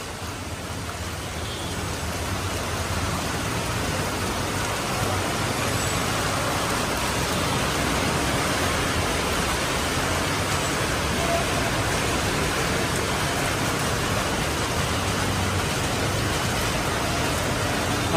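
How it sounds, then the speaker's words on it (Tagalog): Heavy rain pours down on a flooded Manila street at the Pedro Gil intersection, a dense, unbroken roar of water that fills the whole stretch, loud and constant. "Ayan, bumuhos na naman yung malakas na ulan."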